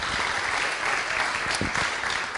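Audience applause at a live stand-up comedy show, a steady, dense wash of clapping that fills the room at an even level without pause and with no voices over it.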